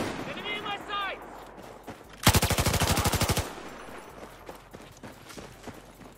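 A rapid machine-gun burst in the Battlefield 4 video game fires about a dozen evenly spaced shots in roughly a second, loud and close, after brief voices and amid low battlefield ambience.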